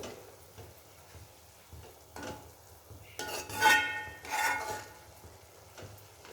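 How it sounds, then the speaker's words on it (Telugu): Dry fruits fry in ghee in a pan with soft sizzling, and a spoon clinks and scrapes against the metal several times. Two brighter bursts of frying and stirring stand out near the middle. "అంతలో నేను పక్కకు డ్రై ఫ్రూట్స్ వేయించుకుంటానండి నెయ్యిలో"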